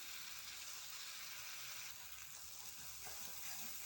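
Masala sizzles and crackles steadily in a hot pan while being stirred for a yardlong bean and egg bhujia curry, a dense, even frying hiss lasting throughout with no talk.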